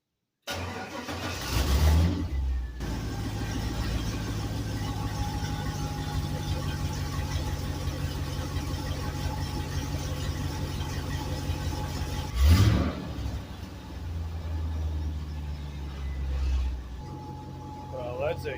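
A 1948 Ford F1 rat rod with an LS engine swap cranks and fires, then runs at a steady idle with a couple of blips of the throttle. The truck is close by, heard alone with background noise.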